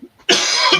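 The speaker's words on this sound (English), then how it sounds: "he's just going to have a wee cough to himself" A man gives a single short, loud cough, close up, after a brief soft throat sound.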